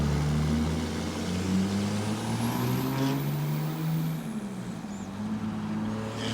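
An 800-horsepower second-generation Cummins diesel truck drives along, its deep engine drone holding steady and close throughout with a slight rise and fall in pitch, and no talking.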